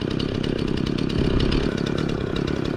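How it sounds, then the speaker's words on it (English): A chainsaw idles to cool down between cuts during tree felling and cleanup, its engine running close by in a steady, even rattle that swells slightly midway. "the best way to let a chainsaw cool is to let it idle for a little bit"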